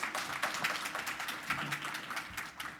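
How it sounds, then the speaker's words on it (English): An audience claps for the panelists at a defense and warfare technology discussion, a thin, scattered round of hands with distinct individual claps, sounding moderately distant. "let's give them all a round of applause before we get started"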